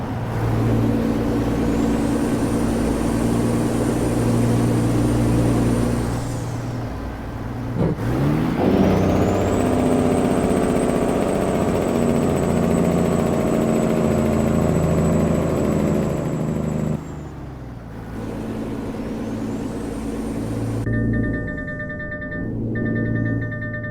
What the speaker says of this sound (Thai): ฟังเสียงเครื่องยนต์นะ โหดมากเลยคันนี้